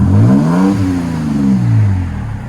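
A 2018 Toyota Tacoma TRD Pro with a 3.5-liter V6 and a Borla Pro-XS exhaust revs twice, close and loud, the deep note climbing and falling each time.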